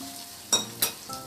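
Two quick sizzling bursts as hot oil tempering hits and is stirred into soaked semolina for vegetable idli, over a faint quiet background.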